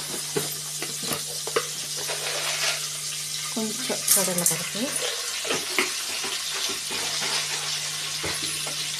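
Mustard seeds and urad dal fry in hot oil with a continuous sizzle and scattered small crackles and pops. A brief voice-like sound rises midway.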